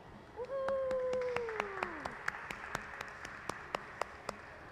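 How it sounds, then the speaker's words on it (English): A small audience in a glassblowing hot shop claps sparsely for the hot shop team, with scattered, irregular claps growing steadier after a brief whistling whoop rises and falls at the start. "Let's give them a big round of applause."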